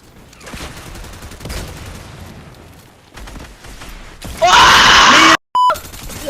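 Gunfire crackles in bursts during a Fortnite match, with scattered shots building to a loud, dense blast of fire and an RPG-style burst, followed by an abrupt cut and a short electronic tone.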